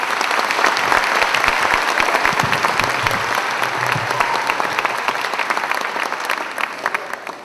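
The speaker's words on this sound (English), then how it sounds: "Let's give him a nice round of applause." Audience at a school spring concert applauding the orchestra, loud sustained clapping with a faint voice briefly in the middle, tapering slightly toward the end.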